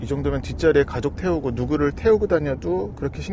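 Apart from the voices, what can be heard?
No everyday noise stands out behind the speech.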